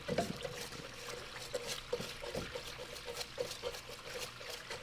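Water running in a thermal aqueous parts washer in a garage, a soft continuous trickle and splash with faint irregular drips, low in level and steady throughout.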